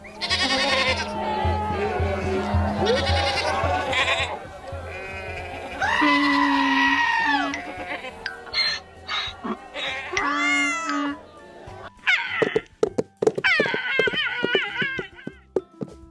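A voice imitates animal calls, including wavering goat bleats and a meow-like cry, in a playful sequence with short pauses and a few clicking sounds at the end.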